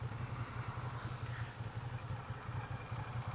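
A 2015 Ducati Diavel Carbon Edition motorcycle engine runs loud and close, with a steady, throbbing low idle-like rumble that holds unbroken throughout.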